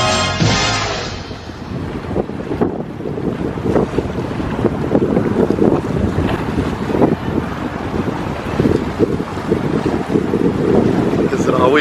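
Strong wind buffets the microphone outdoors in Chicago, a loud continuous roar with gusty surges, with voices talking beneath it.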